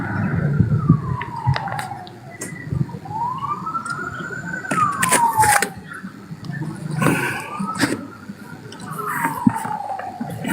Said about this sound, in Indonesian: Itu suara ambulans